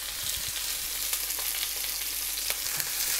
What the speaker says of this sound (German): Dann nehmen wir auch gleich das Stück und schmeißen es ins heiße Öl.